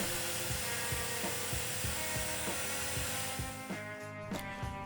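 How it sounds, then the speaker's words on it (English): A power drill fitted with an arbor adapter turns a buffing wheel, its steady high whine holding at constant speed with a rhythmic low thumping throughout, then easing slightly near the end. "use a trigger clamp to keep the drill running while you are buffing"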